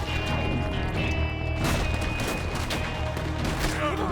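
Rapid gunfire from a Gatling gun in the Western video game Red Dead Redemption 2, a dense, continuous barrage of shots with booming impacts that runs throughout amid busy combat noise.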